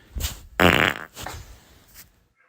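A professional farter's fart, a loud, wet, buzzing blast of about half a second standing alone, with fainter rumbling bursts before and after it.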